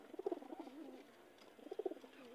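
Pigeons in a pigeon house coo softly, with two short burbling bursts a second or so apart. The calls sound fairly close against a quiet background.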